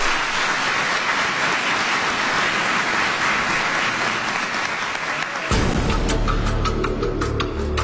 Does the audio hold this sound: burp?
no